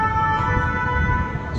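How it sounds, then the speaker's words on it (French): Emergency vehicle sirens from fire engines and ambulances in Paris, a steady wailing tone holding through the whole clip over low rumbling street noise, fairly loud and continuous. "plusieurs quarts de sapeurs-pompiers, plusieurs ambulances."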